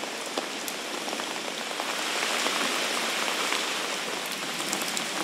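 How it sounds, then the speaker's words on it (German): Heavy rain pours down in Brandenburg, Germany, a dense steady hiss of drops hitting surfaces close by, even and unbroken throughout with no voices. "Der Sound des Regens überall im Land war ja heute zu hören."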